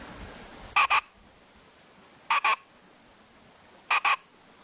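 Three short paired bursts of a hunter's pheasant call imitating an alarmed cock pheasant, evenly spaced and fairly close, each a quick double rasping note over a quiet outdoor background.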